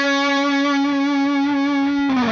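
A distorted electric guitar plays a riff, holding one buzzing note steadily before it bends down at the end, loud and close.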